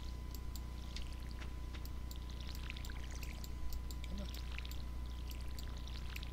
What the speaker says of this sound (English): Water the seeds.